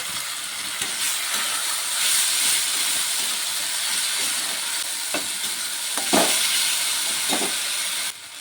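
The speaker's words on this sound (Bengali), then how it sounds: "এখন পেঁয়াজটিও কিন্তু প্রায় ভাজা হয়ে এসেছে। আমি মশলাটি দিয়ে দেব।" Onions and a ground paste of ginger, garlic, cumin and green chili fry in a pan for a rohu fish dish, giving a steady close hiss with occasional sharp clinks and scrapes of stirring, no voices.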